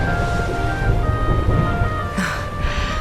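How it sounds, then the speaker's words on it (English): Steady, rolling thunder from a storm in the Dragon Quest XI video game, a low continuous rumble that swells slightly, heard beneath soft in-game music tones. "Would you look at it thundering away out there?"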